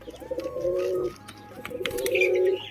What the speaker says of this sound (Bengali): একটা পায়রা এসেছে দেখবা